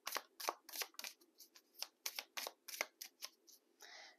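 Tarot cards are shuffled close by in a quiet room, a series of about a dozen crisp, papery snaps and riffles in an uneven rhythm, ending with a softer sliding rustle.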